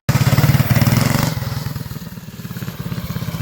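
A small mini bike engine idles and runs on a freshly tuned, larger carburetor after a float adjustment, with a steady rapid putter that is loud and close at first, then settles slightly quieter.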